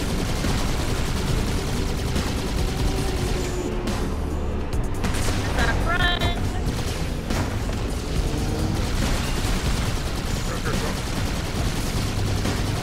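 Gunfire in Halo 2 co-op on Legendary difficulty, dense continuous shooting and booming impacts mixed with mechanical clatter, loud and busy throughout, with voices talking over the battle.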